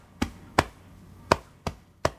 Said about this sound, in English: And I'm just tapping on my chest here.